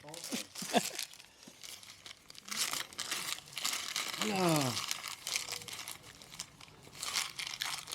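Crinkling and tearing of packaging as a new car charger for a Tesla Model 3 is unboxed, close and uneven in bursts, with people talking over it.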